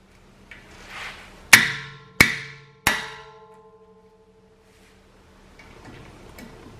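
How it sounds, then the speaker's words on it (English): Three sharp, ringing metallic blows from a 4-pound sledgehammer striking a manual impact driver during front brake work, evenly spaced and loud, each leaving a brief resonant decay before quiet. "that leaves us to this impact driver and a 4-pound sledgehammer"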